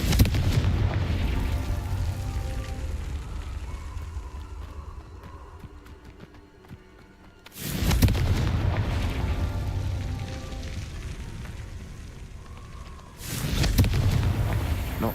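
The Confringo blasting spell in a Hogwarts video game, loud booming explosions with a rumbling roar that decays over several seconds, repeated three times, the later blasts erupting abruptly after a quieter gap.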